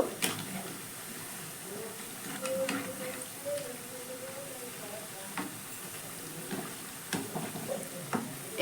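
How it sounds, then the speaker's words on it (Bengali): Mixed vegetable pakoras frying in hot oil, a soft steady sizzle and hiss with occasional light clicks from turning them, fairly quiet and close. "এখানে পকোড়াগুলো কিন্তু সুন্দর ভাজা হয়ে গেছে"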